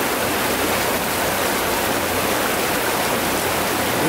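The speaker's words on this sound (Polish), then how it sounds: "ale w miejscu, gdzie woda jest bardziej wzburzona." Turbulent water rushes along the Moi River, a loud, steady roar of churning current that fills the whole clip without any voices.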